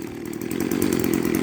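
A restored old Echo string trimmer's small two-stroke engine runs nearby, a steady buzzing drone that rises slightly in pitch and holds.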